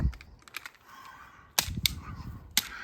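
Sharp gunshot cracks from a 17-round magazine pistol on a range, three distinct loud reports spaced about a second apart with brief echoing tails, no talk during the shots.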